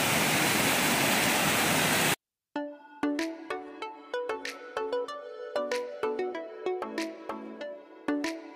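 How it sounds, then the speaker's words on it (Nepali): A swollen mountain stream, the Pak Khola, rushing through a Sikkim village during the monsoon, gives a loud, steady roar for about two seconds before cutting abruptly to melodic plucked music. "यो चाहिँ हाम्रो खोला हो यसको नाम चाहिँ पाक खोला भन्छ"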